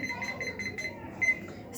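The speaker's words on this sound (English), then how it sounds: "So, I'm going to go ahead and set my timer." A timer alarm gives a run of short, repeated electronic beeps as it is being set, fairly close and moderately loud, with a brief sharper beep near the end.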